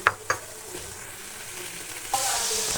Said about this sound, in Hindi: ऑयल में हम लोगों ने इसको फ्राई कर लेना